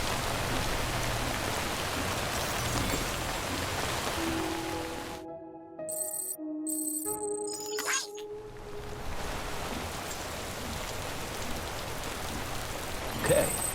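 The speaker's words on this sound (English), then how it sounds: "I don't think this rain's gonna stop." Steady rain hisses down in the video game Death Stranding, a dense wash of droplets that cuts out briefly midway while a few tonal game sounds play, then resumes just as thick.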